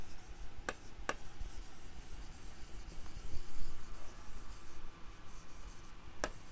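Chalk or marker strokes scratch out a chemical equation on a classroom board, a soft continuous rubbing with a few sharp taps as letters are started, close and fairly quiet, with no talking.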